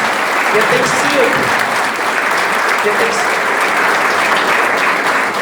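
An audience at a centenary tribute to a writer and historian breaks into dense, sustained applause, loud and steady for several seconds with no pause.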